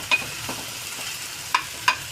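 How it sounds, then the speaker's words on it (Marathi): Garlic, ginger, chili and tomato frying in oil at the side of a pan, a soft steady sizzle broken by a few quick stirring scrapes, close and alone. "आता इथे साईडला लसूण, आलं, मिरची आणि टोमॅटो हे भाजून घेते."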